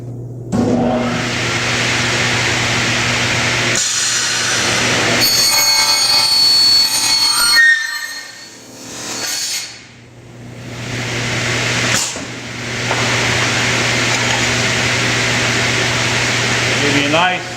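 A Scotchman SUP-600 non-ferrous up-cutting circular saw spins up to a loud, steady whine close by, dips briefly as it cuts through metal, then runs on at full speed with a person talking.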